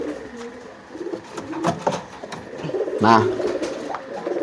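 Domestic pigeons coo in courtship, a series of low throaty coos rising and falling near the microphone, with someone talking briefly over the birds.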